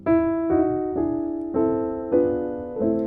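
A solo piano plays a short run of gospel-jazz passing chords, each changing every half second or so, clear and close with no talking.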